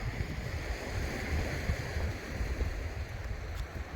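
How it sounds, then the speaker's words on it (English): Sea waves crashing on the shore at a beach on the Lisbon coast near Oeiras, Portugal, a steady broad rushing wash with wind buffeting the microphone. "waves crashing against the shore."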